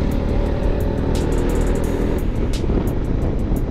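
A 500 cc single-cylinder SOHC engine on a three-wheeled motorcycle pulls hard under acceleration on an open road. A loud, continuous low drone mixes with rushing wind and a few ticking clicks, heard close and with no talking.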